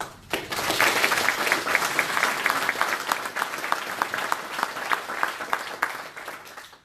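Audience applause welcoming Ben and June Clark at a Corps supporters' event: steady, sustained clapping from a sizeable room, starting abruptly and continuing at a constant level throughout with no talking.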